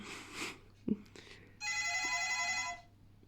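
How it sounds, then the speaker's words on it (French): A telephone rings indoors in one sustained, loud burst of bright electronic trilling, after some brief muffled talk and a thump. "Et il y a le téléphone qui sonne."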